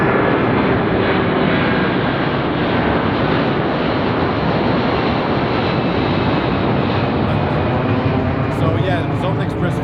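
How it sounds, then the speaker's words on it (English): An airplane passing overhead, a loud, steady broadband engine roar filling the whole stretch, heard close and continuous with a voice talking over it. "another plane"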